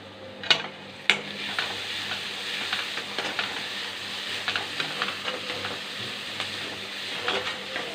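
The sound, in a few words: onions sautéing in a pan for egg gravy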